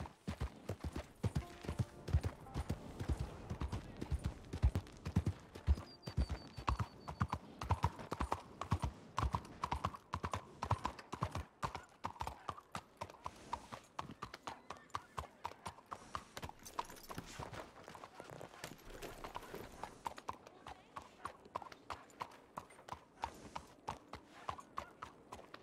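Horse hooves clip-clopping steadily in a western ranch roleplay video game, a continuous rhythmic trotting that runs the whole time, moderately loud with occasional faint voice and game ambience underneath.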